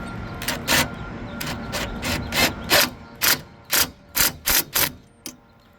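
A ratchet tightens a SnapNrack solar mounting part with a series of about a dozen sharp, close ratcheting clicks in uneven bursts, heard alone without speech.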